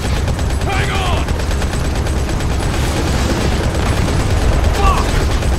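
Sustained gunfire and explosive bursts from the video game Modern Combat Blackout, loud and dense throughout with no clear gaps, a broad rumbling roar with faint shouting voices mixed in.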